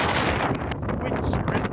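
Strong wind buffets the microphone during a freezing Cornish blizzard, a loud, continuous roar with gusty surges throughout and no voices.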